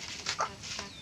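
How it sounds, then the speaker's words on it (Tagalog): A chicken gives a few short, soft clucks close by in a farmyard setting, brief and fairly quiet with low background noise. "Manok."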